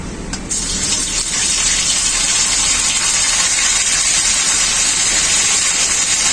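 Water gushing into a pan of fried ground spice paste with black cumin and dried chillies, a loud continuous splashing hiss close by that runs steadily throughout with no talk.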